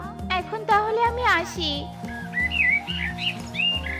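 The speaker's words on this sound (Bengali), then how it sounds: "এই যে পাখি, শুনতে পাচ্ছো?" Bright, high chirps and tweets from a cartoon bird repeat in quick little phrases, following a short line of animated character speech.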